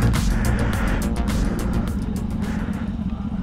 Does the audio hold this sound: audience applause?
no